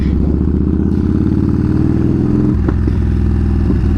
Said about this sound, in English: This is my 2014 Yamaha Bolt R-Spec